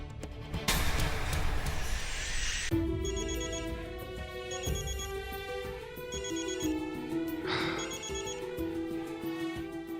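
A phone rings out while a call is placed, a repeating electronic ringtone pattern of bright tones in bursts, loud and steady with no talking.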